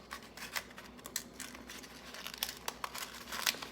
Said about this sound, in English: You hear I'm cheating a little bit because my paper's ripping.